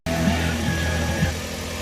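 A rough-running, low-power engine in a Suzuki DA64V non-turbo van with a check engine light and a P0122 throttle sensor fault drones steadily up close, with an uneven, shaky low hum throughout.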